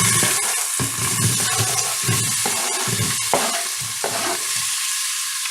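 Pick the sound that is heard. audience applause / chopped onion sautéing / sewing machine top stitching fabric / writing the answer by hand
chopped onion sautéing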